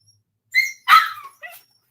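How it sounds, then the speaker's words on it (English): Puppies bark in three short, close yips, the middle one loudest and longest, with brief gaps between them and no voices. "I need these puppies getting on my nerve."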